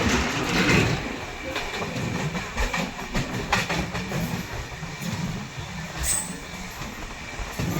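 The Mandovi Express rolls on its rails into Khed railway station in the Konkan, giving a steady, close rumble and rattle of wagons with a brief high wheel squeal near the end and faint voices in the background.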